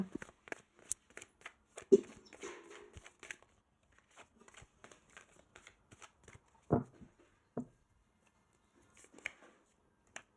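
Oracle cards are shuffled close up in bursts of crisp riffling and snapping, with quiet pauses and a couple of louder slaps between the bursts.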